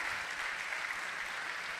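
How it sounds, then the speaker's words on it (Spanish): A church congregation applauds, a dense, steady wash of many hands clapping together, heard from a little distance with no voices on top. "puedes aplaudir si eso te emociona"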